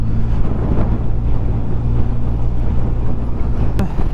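Suzuki GSX S1000 GT motorcycle cruising along an A road, a steady, loud engine and wind roar filling the whole stretch with no break, one brief sharp click near the end.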